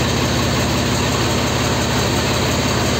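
A Blue Horse 855 tractor engine idling: a loud, steady, close-up diesel rumble that holds unchanged throughout, with no voices.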